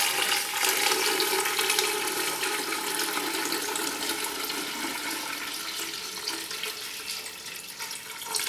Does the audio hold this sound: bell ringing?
no